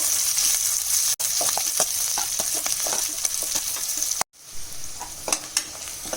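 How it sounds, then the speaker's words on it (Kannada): Garlic, cinnamon, cloves and ginger sizzle steadily in a hot pan over high flame for a sambar base, with scattered crackles and pops, a brief dropout partway through, no talking. "ಬೆಳ್ಳುಳ್ಳಿ ಹಾಕೊಳ್ತೀನಿ, ಚಕ್ಕೆ ಲವಂಗ, ಶುಂಠಿ. ಇದನ್ನು ಸ್ವಲ್ಪ ಚೆನ್ನಾಗಿ ಹುರ್ಕೋಬೇಕು"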